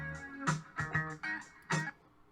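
A chopped music sample plays back on a sampler as a short run of punchy, rhythmic bursts with tonal, chord-like layers, quiet overall and about two seconds long, with no talking.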